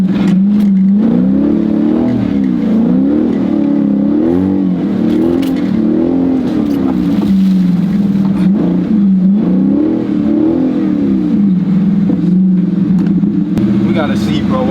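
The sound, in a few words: Dodge Scat Pack 300 tire scrubbing on wheel well while driving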